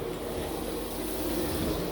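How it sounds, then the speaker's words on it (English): Steady low rushing of water running from leaking pipes near an off-grid water pump, continuous and even, with no voices and no clear breaks. "I can hear water running."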